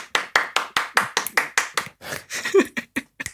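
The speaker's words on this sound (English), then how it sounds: "it's just one person clapping" One person claps alone, giving a rapid run of about a dozen sharp, close claps in a slightly uneven rhythm with short gaps between them.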